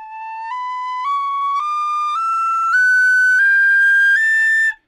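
An A modal (mixolydian) scale played upward on an Irish tin whistle, eight clear, bright notes stepping up one after another at an even pace, loud and close with no talking.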